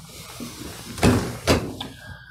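Two firm sliding thumps about half a second apart as drawers in a 2021 Coachmen Mirada 32 SS motorhome are pushed shut, followed by a softer click in a quiet room.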